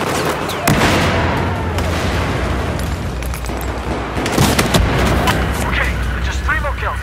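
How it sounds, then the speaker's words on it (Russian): Heavy booms and bursts of gunfire from a grenade blast and firefight in the video game Battlefield 4, loud and dense across the whole stretch, with voices talking over the battle. "Кидаю гранату!"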